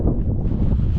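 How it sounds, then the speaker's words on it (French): Wind blows in an arid desert at 4200 metres altitude at night. It comes as a steady, close, low rumbling gust buffeting the microphone for a brief moment, with no other sounds. "Il y a du vent, mais il fait pas froid."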